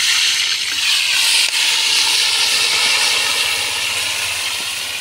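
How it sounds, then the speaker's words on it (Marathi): Chicken frying in hot oil in a pot outdoors at Kasheli beach makes a loud, steady hissing sizzle close by that runs continuously with little variation. "बस तेलात चिकन घालून घेऊया।"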